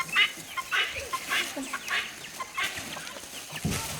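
Chickens cluck in a quick, uneven series of close, moderately loud calls, several birds overlapping over a quiet background.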